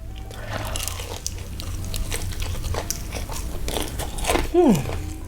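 Loud, close crunching bites into crispy chopped fried chicken, with dense crackling chews running throughout and someone talking over the eating.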